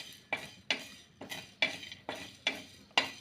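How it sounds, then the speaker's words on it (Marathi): Coriander seeds dry roast in a pan as a utensil stirs them, producing six or seven sharp, close scraping strokes in an even rhythm with a faint sizzle between them. "आता आपण धने भाजून घेऊया थोडेसे लालसर होऊन द्यायचे आहेत"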